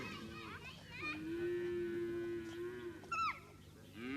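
Cows kept by herders in Namibia's Kaokoland moo nearby, one long low call followed by a shorter higher one, with faint voices and children in the background.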